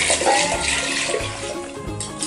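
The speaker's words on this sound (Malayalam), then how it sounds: "നമുക്ക് മസാലയിലേക്ക് വെള്ളം ഒഴിച്ച് കൊടുക്കാം" Water pouring into a spiced masala in a pressure cooker while making kuska plain biryani, a continuous splashing, gurgling gush that stays loud and close for the whole short stretch.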